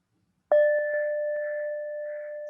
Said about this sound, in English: So I'll ring the bell and we'll all say welcome together.